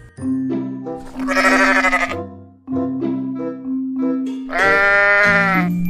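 Sheep bleat loudly and close by in two long, wavering calls, with a steady low hum underneath.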